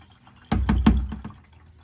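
Motor oil from a 2015-2020 Chevy Suburban 5.3L drain plug starts flowing with a sudden close splashing gush, a few quick pulsing splatters over about a second before fading.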